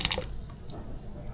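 Boiling hot water poured over hassa (cascadoo) fish in a pot for a Trinidad curry, a faint splashing trickle with a few drip-like spatters at the start, quiet and close.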